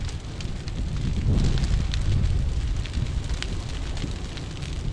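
Outdoor brush fire burning cedar at a dump site on a windy day, a steady crackling roar with broadband rushing noise and wind buffeting the microphone.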